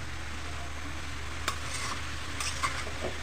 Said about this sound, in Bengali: আর এখন আমি আবার একটু লাউটাকে একটু নেড়ে দিব।